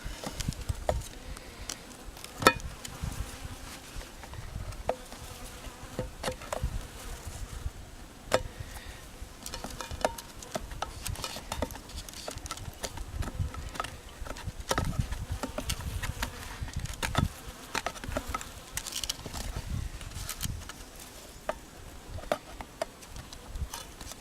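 Honeybees from a package being installed into a hive give off a dense, continuous buzz, close and steady, with scattered ticks and taps from handling the box throughout, and no voices.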